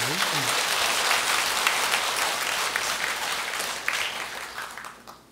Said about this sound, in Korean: 우리 박수 한번 쳐드립시다